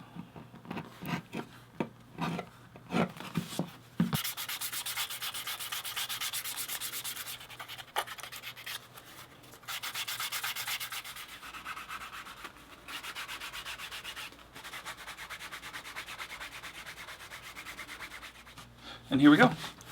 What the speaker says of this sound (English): I'm going to sand with a 320 grit